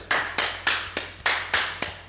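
Seven sharp, evenly spaced claps ring out one after another, each a crisp broadband hit with a short decay, sounding like a single person or small group clapping in a quiet room rather than a full crowd.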